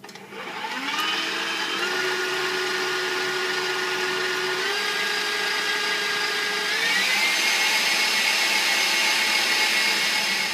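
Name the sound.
electric mixer beating cookie dough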